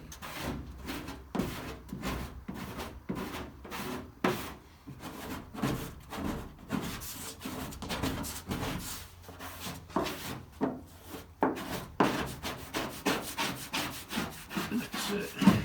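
Hand sanding primer on the body of a 1965 Comet, rhythmic back-and-forth abrasive strokes, close and steady, continuing throughout with no talk.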